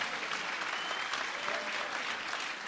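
Sustained, dense applause from a boxing match crowd, steady and fairly loud throughout with no break or single voice standing out.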